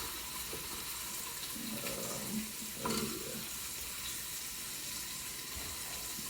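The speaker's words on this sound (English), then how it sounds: "we are going to go ahead and drop these short ribs in and get these browning up" Short ribs browning in a smoking-hot pan give off a steady, faint, hissing sizzle, with a couple of slightly louder spits and pops partway through.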